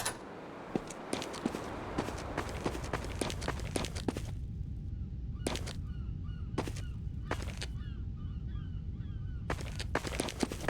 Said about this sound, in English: Also, I love the birds. Love the birds flying around.